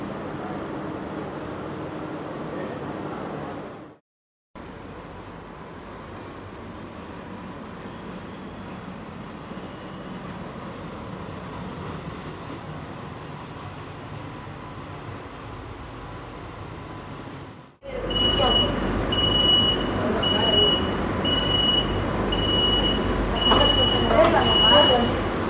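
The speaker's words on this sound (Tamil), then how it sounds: "ட்ரெயின் ஷார்ப்பாக 7 o'clock சென்னை பீச்லேருந்து டிபார்ட் ஆகிடுச்சு." A Chennai AC EMU suburban train departs Chennai Beach station, a steady rumble and hum of the moving carriage with a brief dropout, then louder rattling and a tonal whine as it gathers speed.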